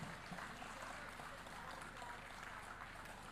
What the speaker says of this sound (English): One big round of applause from our students